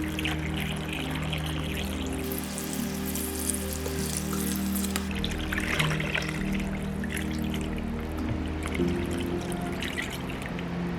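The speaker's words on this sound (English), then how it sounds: "we're gonna add our filtered water" Filtered water poured into a homemade lemon juice mucus detox remedy mix, a steady close trickle running for about eleven seconds with faint clinks of the container, no talking.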